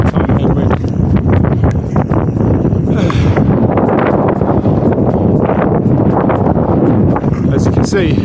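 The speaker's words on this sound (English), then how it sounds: "big time headwind" A strong headwind roars and buffets the microphone continuously while bikepacking on a gravel mountain-bike route, loud and gusty throughout.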